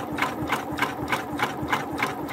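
A Janome MB4 embroidery machine stitches an applique edge, giving off a steady, rapid mechanical whir with a regular beat of needle strokes. It is close and fairly loud and runs alone throughout.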